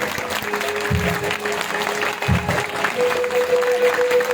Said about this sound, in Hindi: मगर क्योंकि आप जो खड़े लोग हैं उनकी तालियों की आवाज आती है, बैठों की आवाजें नहीं आती ना।